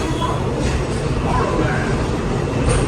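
A Walt Disney World Railroad steam train carrying passengers on its loop around the park, giving a loud, continuous rumble of rolling wheels and carriage noise, close up, with a voice speaking over the ride throughout.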